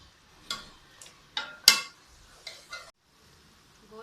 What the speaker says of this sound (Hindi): आप इसको गोश्त को भून लें ताकि अदरक लहसुन अच्छे तरीके से भून जाए